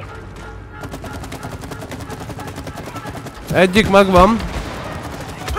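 Rapid gunfire bursts from the video game It Takes Two crackle through the clip, growing louder with a dense volley near the end, while a player talks briefly over the action.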